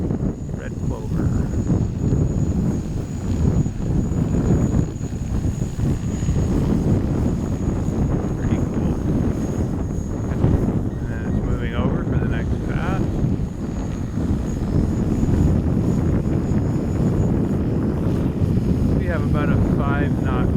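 An agricultural drone seeding red clover cover crop hovers close by, its propellers a strong steady roar mixed with wind buffeting on the microphone, and a voice talks over it.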